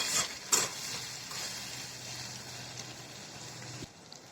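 Chopped tomato and potatoes being stirred in a pan for begun masala, with a steady broadband sizzle and soft scraping strokes, a sharper clank near the start, close and moderate, no voices.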